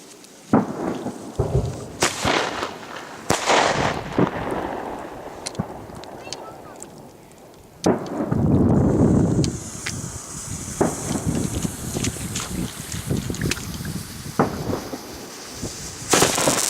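Fireworks burst during a New Year's Eve 2012/2013 display, with sharp booming explosions at irregular intervals and a long crackling rumble, close and loud, while people talk in between.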